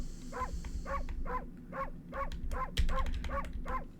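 A dog character in the video game Okami barks repeatedly in an even series of about nine short, yappy barks, spaced evenly over a low background hum of game music.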